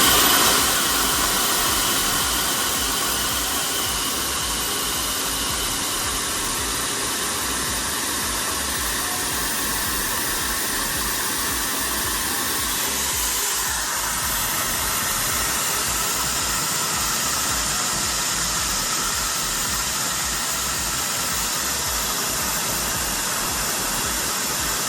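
Milwaukee cordless precision blower running with an XC 5.0 battery about 2 feet away: a steady, loud, broadband jet of rushing air with a constant high whine, holding unchanged for the whole stretch.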